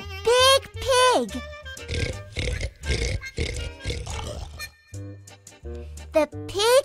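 A voice in a children's reading story imitates a big pig's oinks and grunts, with several short squealing and snorting bursts broken up by pauses over soft background music.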